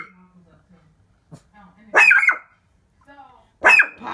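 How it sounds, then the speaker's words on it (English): A dog barks twice in loud, sharp bursts separated by a pause, with quiet murmured talk and small sounds before them. "Papa, you've been barking for 3 minutes."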